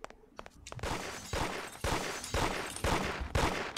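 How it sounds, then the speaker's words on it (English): Gunfire in the crime game Mafia during a bank robbery: a string of heavy, evenly spaced shots, about one every half second, each with a reverberant tail, loud and close with no talking. "Who's shooting?"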